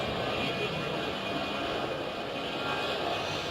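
EasyJet airliner at Bristol Airport heading for Barcelona, a steady broadband jet roar heard from a spectators' terrace, loud and continuous with no break.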